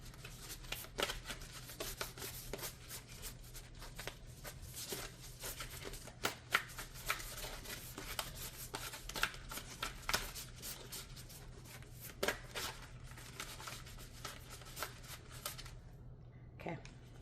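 An oracle card deck being shuffled close by, quiet rapid riffling and soft rubbing of cards continuing throughout.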